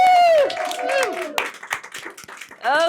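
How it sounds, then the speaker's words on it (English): Applause and whooping cheers from a magic-show audience for a magician, with a crowd cheering loudly around a burst of clapping in the middle. "I think we should give her another round of applause."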